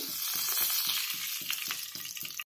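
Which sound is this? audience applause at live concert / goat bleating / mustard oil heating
mustard oil heating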